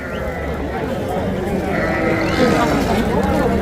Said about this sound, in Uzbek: Qo'chqarlar, yana qo'ylar.